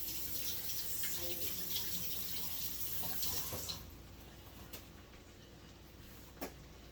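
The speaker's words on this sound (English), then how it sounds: "I wash my hands again" Kitchen tap water running steadily while hands are washed during cooking, close and fairly quiet, then the flow stops and only a few faint drips and taps follow.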